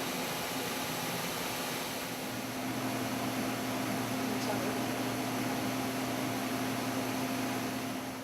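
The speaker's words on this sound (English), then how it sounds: "they are getting dried off in the dryer" A pet dryer at an animal shelter blows on freshly bathed puppies, a steady loud whooshing roar with a low hum underneath and a voice talking over it.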